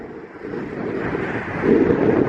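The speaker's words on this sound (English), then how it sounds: "Oh, this wind. It's so windy." Strong wind buffets the microphone on a coastal walk in Kent in a continuous low roar that swells louder toward the end, with no voices.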